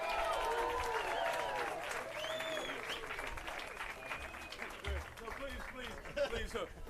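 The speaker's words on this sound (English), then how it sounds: "Please hold your applause" Audience applause for Eddie Murphy at a Hollywood Walk of Fame ceremony, a faint, distant patter of clapping and crowd noise that lingers beneath a speaking voice.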